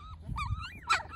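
Two-week-old puppies whimpering, a couple of thin, wavering whines close by, rising and falling, with a brief sharper yip at the end.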